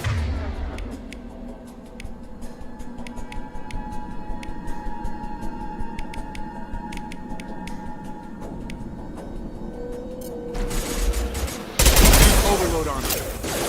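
Gunfire in Mass Effect 2 Legendary Edition, a sci-fi shooter game: rapid automatic bursts crackling over a steady low game rumble, then a loud burst of heavy fire and blasts near the end.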